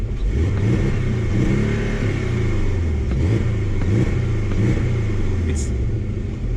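A 2021 Porsche 718 Cayman GTS engine rumbles close by, revving up and down in short throaty bursts with a rough, deep tone.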